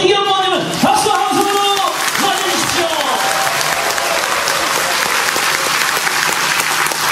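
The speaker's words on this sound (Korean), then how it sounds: "전희경 의원님은 박수!" Loud, sustained audience applause in a city hall auditorium in Andong, welcoming a lawmaker at a political party lecture, with a voice speaking over the opening seconds and a few whoops in the crowd.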